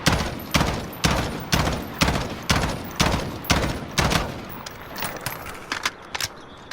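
M16A4 rifle in Call of Duty Modern Warfare fires loud, sharp single shots at an even rhythm, about ten in a row, followed by quieter clicks and rattles.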